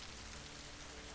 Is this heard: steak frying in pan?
no